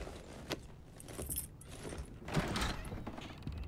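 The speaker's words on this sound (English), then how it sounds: "I need to get out my keys." A bunch of keys jingles and clinks in a few quick bursts as it is pulled out, close and moderately loud, among faint background noise.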